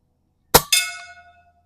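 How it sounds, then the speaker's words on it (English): Air gun pellet from an Umarex Notos G2 striking a metal gong at a shooting range: a sharp impact followed by a second ringing clang that decays over about half a second, close and alone. "Let's hit the gong one more time."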